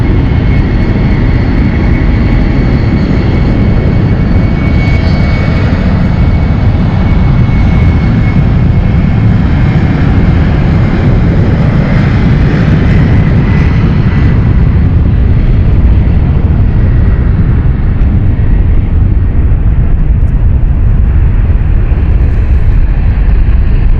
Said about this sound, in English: Let's get an up close takeoff as well